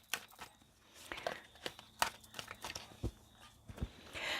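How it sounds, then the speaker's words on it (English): Tarot cards being shuffled by hand, giving a run of crisp papery slaps, riffles and soft crinkles in an uneven rhythm, fairly faint and close, with no talking. "Give cards a really good shuffle."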